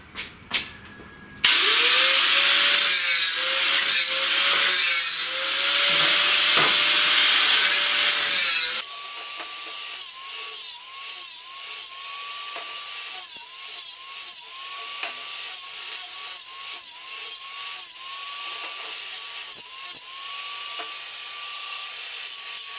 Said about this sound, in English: what we're going to do now is deburr everything and then we'll tack it all up.